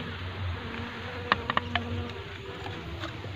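Bees hum around the frames of a growing hive, a soft, steady close buzz broken by a few faint clicks near the middle.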